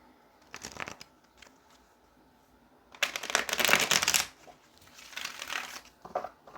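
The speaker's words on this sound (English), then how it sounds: "let's go ahead and pull some tarot to clarify" Tarot cards being shuffled by hand in bursts of crisp riffling, short flicks first, then a longer loud shuffle and a few more quick riffles, close up.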